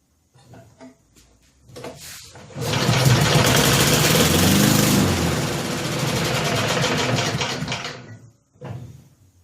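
A cheap Snapper walk-behind lawn mower that won't stay running coughs and sputters a few times, then its engine roars loudly up close for about six seconds before dying away.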